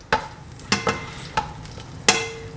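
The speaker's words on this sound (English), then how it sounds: "You can see it's already starting to sizzle there." Sharp clicks and clatter of a utensil moving garlic in a pan, with a faint steady sizzle of olive oil underneath.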